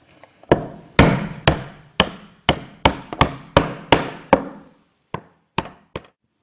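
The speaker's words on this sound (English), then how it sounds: "Now we hammer the two into place." Sharp hammer blows knock two halves of a Roxtec sealing panel into place with metal brackets, about a dozen close, loud metallic strikes at a steady pace, then a short pause and three more spaced hits.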